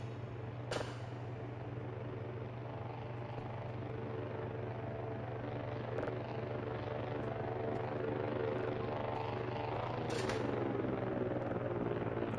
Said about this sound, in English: That should be the drone, even though it's a scary noise.